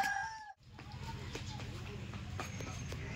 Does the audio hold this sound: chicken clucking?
yes